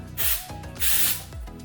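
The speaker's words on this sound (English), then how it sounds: "I'm gonna take, once again, my texture spray" Texture spray hisses onto hair in three short bursts, each about a third of a second, close and fairly loud, with brief pauses between them.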